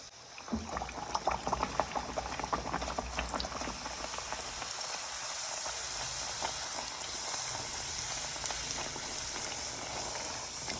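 Puri dough dropped into hot oil for frying in a home kitchen, producing a steady dense sizzle and crackle that bursts up at first and then settles into a constant bubbling hiss, with no talking.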